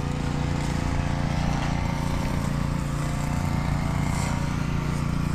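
Engine-powered grass cutter clearing weeds around vegetable plantings, a loud continuous droning buzz held steady and close throughout, with no talking.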